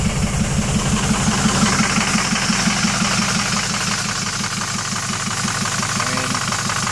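A 6.0 diesel engine with a cylinder 2 misfire runs loud and close, with a steady rhythmic knocking pulse over a hissing drone.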